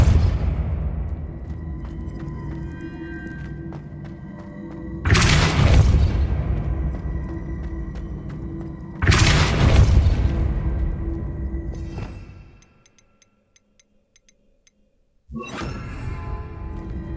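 Force-push spell Depulso cast in the Hogwarts Legacy video game, heard as two loud booming bursts, each swelling into a rumbling blast and trailing off, set in a steady game soundscape that drops to near silence before a third burst begins.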